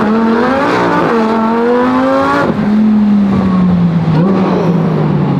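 A supercharged Lamborghini STO launching hard from a standstill, its engine note climbing loud and close through the gears, with a brief dip at the shift.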